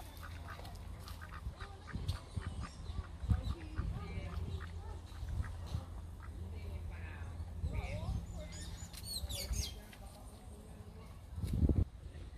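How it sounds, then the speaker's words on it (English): Ducks or geese at a Barbados nature park give scattered quacks and honks at moderate distance. The calls come throughout, over outdoor background noise and people talking. "Look at ducks. They're goose."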